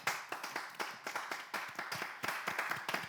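Audience applause at a live stage show, a quick run of sharp claps repeating through the whole stretch, fairly near and moderately loud with no talking over it.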